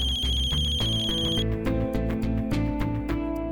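An electronic phone ringtone keeps playing, a looping melodic tune with a high bright tone at first, close and loud, no talking.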